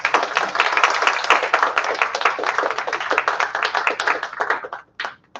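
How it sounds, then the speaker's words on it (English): A small audience at a talk on natural language processing applauds close by, dense and loud clapping that thins out near the end into a few scattered last claps before stopping. "please, round of applause"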